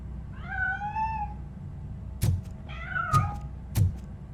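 Two clear, rising meows from a cat in Robocop: Rogue City, close and fairly quiet over a low ambient hum, with a few sharp knocks between them.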